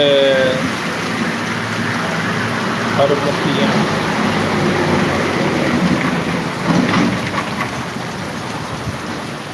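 Heavy monsoon downpour pours over Jamkandorna, a town in Gujarat, as a loud, dense, continuous roar of rain with a low rumble underneath, while people talk over it.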